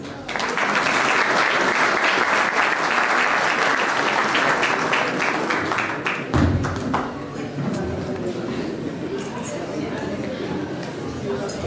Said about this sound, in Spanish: así lo vamos a recibir con fuertes palmas